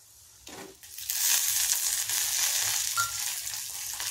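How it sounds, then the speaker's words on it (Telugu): Ginger chutney ingredients, including coriander seeds, fry in a pan on the stove. A soft start swells into a steady, close sizzle with scraping stir sounds running through it. "ఇవన్నీ ఒక 5 నిమిషాలు వేపించుకుని పచ్చిమిరపకాయలు కూడా వేసేసుకోవాలి"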